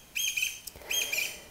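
Birds chirp nearby in two bright, rapid bursts of twittering, separated by a brief pause, with no talking.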